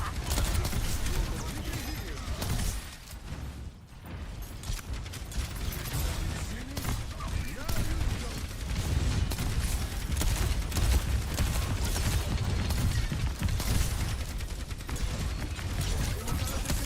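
Steady gunfire rattles through a hectic Overwatch team fight, mixed with ability effects and clanking, while voices talk over the constant action.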